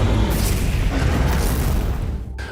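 A loud explosion in a Warhammer game trailer, a sustained booming roar with heavy low rumble and debris-like crackle that cuts off abruptly near the end.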